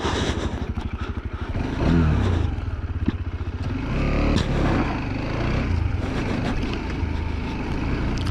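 A TVS Apache RTX 300 motorcycle ridden offroad roars close by with a loud, steady engine and clattering, its rear wheel spinning on loose ground while the revs surge and hold throughout.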